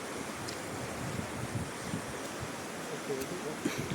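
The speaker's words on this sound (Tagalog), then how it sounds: "Lakas ng tubig guys." Broad, steady rushing of fast, strong water swollen by rain fills the scene under a bridge, constant and loud, with faint voices beneath.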